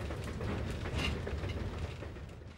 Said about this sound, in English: This train is a runaway.